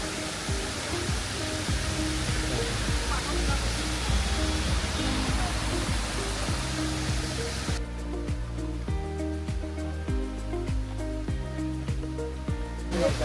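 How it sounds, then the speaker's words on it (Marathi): Water pours down a monsoon waterfall at Amboli in the Konkan, a steady broadband rush that dominates for most of the stretch before dropping abruptly to a quieter background with scattered ticks. "तिथून वरती पाणी येतं आहे."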